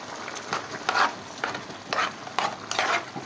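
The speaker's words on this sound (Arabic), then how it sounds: "وهقلبه كويس" Washed, drained rice is stirred into a sautéed sauce base for stuffed cabbage, giving repeated scraping stirs over a light sizzle in a pot, close and fairly loud.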